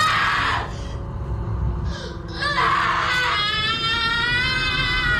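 Woman screaming during a ritual in a horror film, loud wailing cries broken by short pauses and rising into a sustained, quavering shriek over a low rumbling background.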